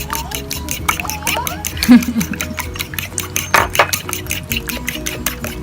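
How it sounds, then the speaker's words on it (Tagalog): An egg is beaten in a bowl for chocolate crinkle dough, with a fast, steady run of clinks as the utensil strikes the bowl, heard up close with no pause. "Halo lang natin yung egg. I-beat lang natin siya."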